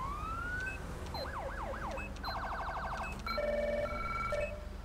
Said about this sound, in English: Alright, sounds like all sirens are working.